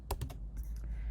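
Quick burst of computer keyboard keystrokes, several clicks close together and then a few softer ones, heard close up over a low background hum.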